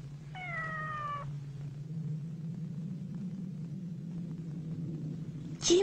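In an animated Japanese folk tale from Nagano, a cat cries beside a coffin at a funeral: one clear, drawn-out meow near the start over a low continuous rumble, then a sharp sound at the very end.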